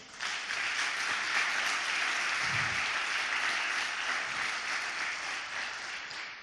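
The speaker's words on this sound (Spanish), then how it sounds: "Aplaude al Señor por eso." A church congregation claps together in steady, full applause for several seconds, a dense even wash of many hands that fades slightly toward the end.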